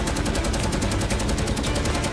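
A B-17 bomber's cheek machine gun fires on FW-190 fighters in an air battle, a dense, continuous rattle of rapid bursts that fills the whole stretch at steady loudness, with no voices over it.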